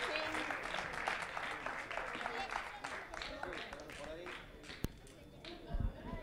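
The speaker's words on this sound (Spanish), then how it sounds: "un fortísimo aplauso desde Tenerife" An audience at a line-following robot competition claps in a fairly quiet, scattered burst, with voices and crowd murmur mixed in and a sharp knock near the end.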